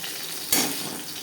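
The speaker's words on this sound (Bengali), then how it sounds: "মাছ আমি হালকা করেই ভেজে নিলাম" Fish fries in hot oil for a curry, a steady crackling sizzle that flares with a sharp burst midway as pieces shift in the pan.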